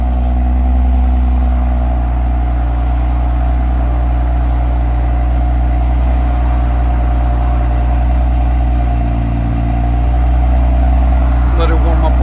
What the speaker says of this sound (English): 2026 M340i with a Dinan axle back exhaust,